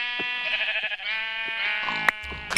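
Sheep in a survival video game bleating in a long, wavering, nasal cry close up, with a few soft clicks and thuds around it.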